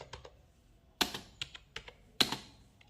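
A company code typed on a computer keyboard: a handful of sharp, irregular key clicks over about three seconds, close and fairly quiet, with two or three harder strikes standing out among lighter taps.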